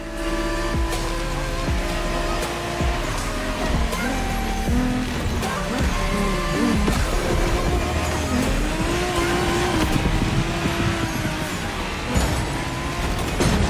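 Race cars in The Crew Motorfest roar through a final race, engines revving and droning continuously with rising and falling pitch, loud and close, with tire squeals and some background voice chatter mixed in.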